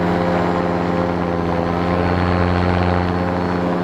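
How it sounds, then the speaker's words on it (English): Paramotor engine droning steadily in flight on a powered paraglider, a loud, close, constant propeller buzz with a fixed low hum and no break. "Today though, I'm flying a paramotor, as you can hear."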